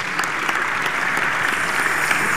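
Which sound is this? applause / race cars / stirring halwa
applause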